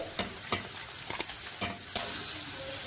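A bolani paratha, a flatbread made with chives, sizzles and fries in a pan, with a steady hiss cut by several sharp spattering crackles and clinks of it being turned.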